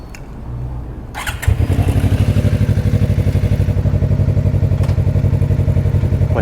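A Suzuki GSXR motorcycle fires up after a few clunks and settles into a loud, close, steady rhythmic engine rumble, with a couple of sharp clicks along the way.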